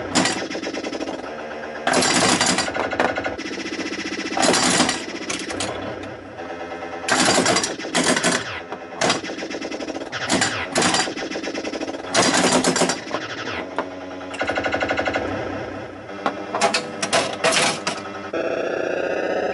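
Repeated hard banging on a 1980 Williams Firepower pinball machine, loud irregular bursts of thumping and rattling with short pauses between clusters, alone with no talk.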